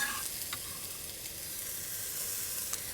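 Onion, carrot and celery sizzling in a soup pot for lentil soup, a steady soft frying hiss with faint stirring clicks and no talk.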